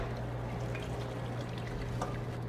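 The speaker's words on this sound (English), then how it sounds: "pour all of this wonderful, flavorful liquid right into your pot" Hot, flavorful liquid deglazed from a pan is poured into a stock pot, making a steady, continuous splashing pour at close range and moderate volume, with no talking.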